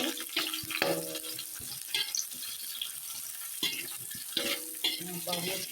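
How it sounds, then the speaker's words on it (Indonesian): Sliced ginger, galangal, chili and onion sizzle and fry in a pan while being stirred, giving a steady crackling hiss with scraping spatula strokes, close by and moderately loud. "kita akan aduk-aduk"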